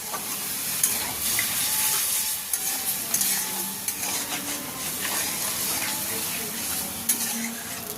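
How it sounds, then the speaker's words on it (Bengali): Chicken meat being stirred and fried in a pan, a steady close sizzle with continuous scraping and stirring strokes and occasional clinks of the utensil against the pan. "আবারও নাড়াচাড়া করে ভালো করে ভেজে নেব আর কষে নেবো"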